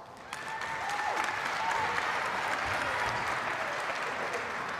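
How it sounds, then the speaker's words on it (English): A crowd applauds at a community pep rally for a basketball team heading to the Final Four: dense, steady clapping swells quickly and holds for several seconds, moderately distant, with a few faint whistles above it. "So you guys should give yourselves a round of applause."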